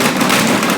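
Metal tools jumbled and rattling inside a shaken toolbox, a dense, loud burst of clattering noise lasting under a second.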